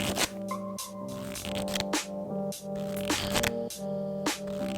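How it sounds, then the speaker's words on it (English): Playing cards riffled in quick repeated bursts, a crisp fluttering rattle with brief pauses between passes, close by. "just riffle through the cards until you feel like you're getting them off one at a time"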